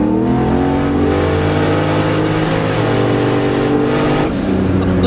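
A 1000-horsepower turbocharged Pontiac Trans Am WS6 accelerating hard, loud close engine roar climbing steadily through the revs with a brief shift near the end.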